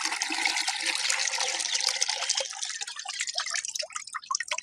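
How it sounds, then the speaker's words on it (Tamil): Liquid oilcake mixture poured on a village farm for a young calf, a steady splashing gush that thins into scattered drips and trickles toward the end. "இளங்கன்னு மாட்டுக்கு வந்து பின்னாக்கு ஊற்றுறாங்க"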